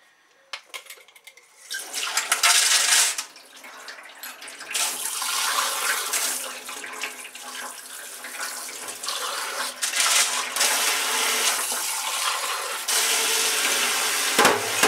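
Copper still column packing rinsed in a colander under running tap water, a steady loud splashing rush lasting many seconds after a few opening clinks, close and with no talk.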